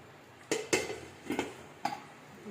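Four sharp metallic clanks of a lid being set on a pot, spaced irregularly, close and fairly loud against a quiet background.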